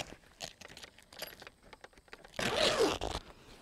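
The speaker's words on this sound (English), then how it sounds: "if you just want to roll the top up, you have your zippers, which actually has Velcro" A zipper is drawn along a vehicle's soft top that also fastens with Velcro, giving a loud, close rasping burst after a few quieter rustles and handling noises.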